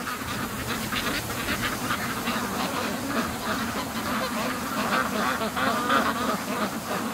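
A flock of free-range ducks quacks continuously in a busy, overlapping chorus on an icy lake, moderately close, with a few geese among them and steady outdoor background noise.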